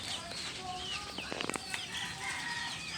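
Chicks peeping outdoors, a quick cluster of thin, high chirps over steady background noise, with softer scattered peeps around them.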